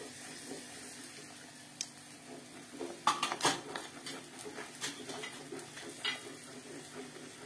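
Green peas frying in a pan with coriander powder and other spices, after tomatoes and whole spices were sautéed: a faint, steady sizzle broken by scraping stirs and a few louder utensil clinks partway through.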